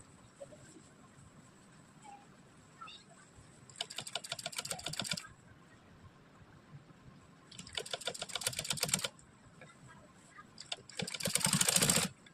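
A sewing machine stitches a princess cut blouse in three separate runs of fast, steady needle clatter, each lasting one to two seconds and separated by quiet pauses, heard close up.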